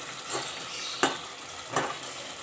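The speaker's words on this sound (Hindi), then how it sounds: "इसको डाल के हम भूनेंगे।" Chopped green chillies and ginger fry in a pan for aloo keema, a close and steady sizzle with a few sharper crackles and brief stirring scrapes, and no voices.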